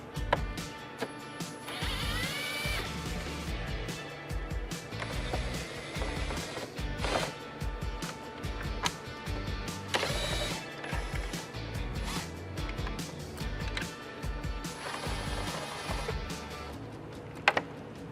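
Small T15 screws being backed out of a 2019-2026 Chevrolet Silverado tow mirror cap with a ratcheting driver, giving a steady, close run of ratchet clicks and mechanical creaks with a few louder knocks and scrapes throughout.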